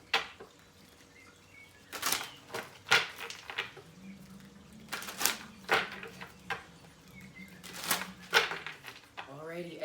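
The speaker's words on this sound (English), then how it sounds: "Just going to shuffle these cards" Tarot cards being shuffled by hand, a series of irregular soft riffles and taps in short bursts, close and fairly quiet, with occasional speech in between.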